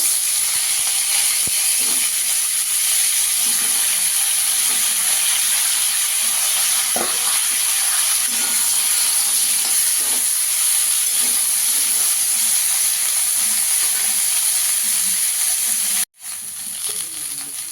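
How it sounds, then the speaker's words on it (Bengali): Flat beans fry in a little oil in a pan after cauliflower, making a constant broad hiss with faint crackles that cuts out briefly near the end and then resumes. "এবার আমি আর 1-2 চামচ তেল দিয়ে দিয়েছি। এবার শিমটাকে একটু ভেজে নেব।"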